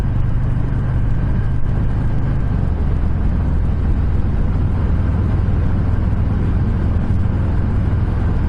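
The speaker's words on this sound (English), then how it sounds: "I can feel it slow down better with the engine, using the engine to brake." A 2020 Harley-Davidson Softail Fat Boy 114 engine braking, a loud, steady low-pitched V-twin rumble mixed with wind roar, continuous and close throughout while riding.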